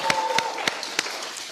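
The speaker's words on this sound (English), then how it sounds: "can we clap for that?" An audience at an anniversary party claps in a sparse, loose rhythm, with a handful of sharp, distinct claps standing out over a faint murmur and low background tone.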